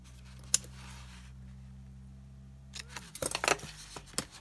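Scissors snip through card stock while trimming off two square widths for a handmade journal, a sharp cut near the start and a quick run of crisp snips toward the end, close and clear with quiet pauses between.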